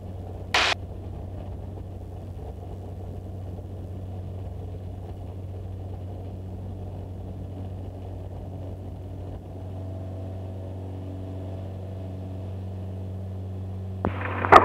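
A Jabiru light aircraft's engine drones steadily and close at Mo Bridge, runway 01, as it rolls for takeoff. The low hum holds constant, with brief sharp noises near the start and end.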